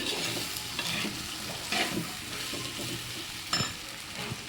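Bitter gourd sautés in a pan with a soft continuous sizzle, broken by a few scraping stirs of the spatula, close up and fairly quiet, with no voices.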